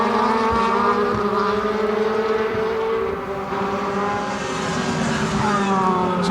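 Several DTM touring race cars at Valencia run downhill into the first turn, their engine notes overlapping in sustained high-pitched whines that shift pitch as they brake and change gear, loud and close, with no commentary over them.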